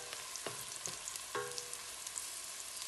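Onions fry in a pan with a soft, steady sizzle and a few faint clinks, quiet and close, no voices.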